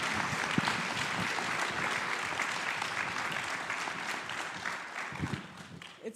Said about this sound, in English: Give me another round of applause for all of these